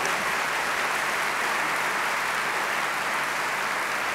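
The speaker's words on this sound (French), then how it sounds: "vous pouvez les applaudir, et toutes leurs équipes chaleureusement." A hall audience at a cdH party president's political speech gives warm, sustained applause: a dense, even wash of clapping that holds steady throughout with no voices over it.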